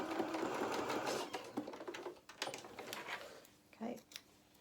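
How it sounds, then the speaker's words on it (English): A domestic sewing machine stitches a doll-sized waistcoat side seam in quick rattling bursts, stopping and starting with short reverse runs, heard close and fairly soft, with a voice speaking over part of it. "A couple of stitches forward, a couple of stitches back, and then needle in the work, and then we can then just run down that side seam."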